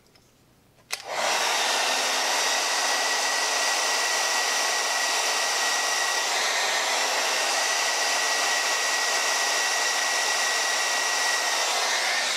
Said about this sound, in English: I heat the hair medium to high heat, and then I cool it down with the cool button on my hairdryer